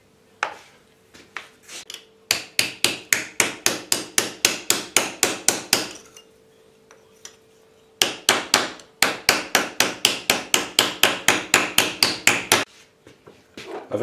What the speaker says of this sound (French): Et là, je vais continuer au marteau.